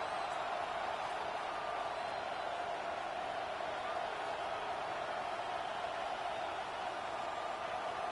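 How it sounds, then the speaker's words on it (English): A stadium crowd at MetLife in a Madden football video game roars as a steady, hissing wall of distant cheering on third down, holding a constant level throughout with faint whoops. "The crowd at MetLife on their feet for third down."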